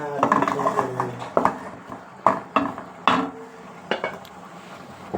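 A pan of phuruli fritters being stirred and fried in spiced masala, heard mainly as a run of close, loud clatters and scrapes of a utensil against the pan over a faint sizzle.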